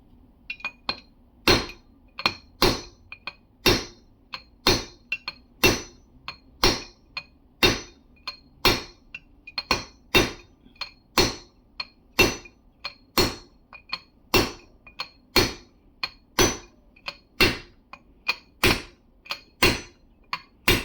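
Sharp metallic knocks repeat at a steady pace, around thirty close, ringing hits of a new bearing being pressed into an Infiniti front wheel hub, with no talking.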